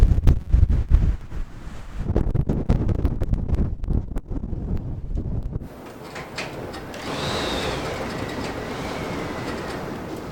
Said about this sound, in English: spring in the high desert of New Mexico is synonymous with extreme wind